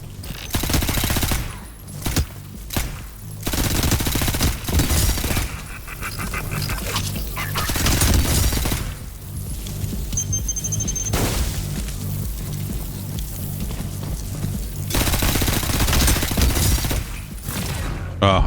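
Dense bursts of rapid automatic gunfire and booms ring out in a cyberpunk shooter video game, loud and nearly continuous with brief gaps, mixed with game effects.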